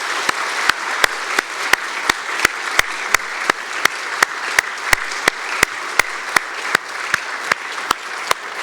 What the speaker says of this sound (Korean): 여러분 박수로 함께 축복합시다